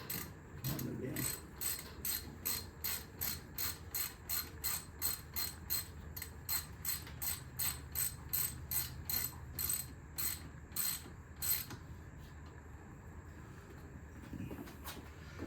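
Ratchet tightening the thermostat housing bolts on a CE Lancer with a 1.8L 4G93 engine: a long run of rapid, even clicks, close and faint, with a short break near the end and a few brief murmurs.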